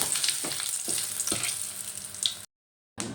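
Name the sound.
whole spices frying in mustard oil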